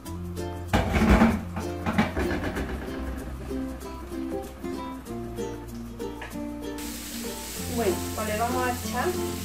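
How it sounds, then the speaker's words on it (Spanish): Onion frying in a spoonful or two of olive oil in a frying pan: a loud, close, continuous sizzle with crackling and spatter. A voice talks over it, and kitchen clatter shows at moments. "vamos a freír, a cortar"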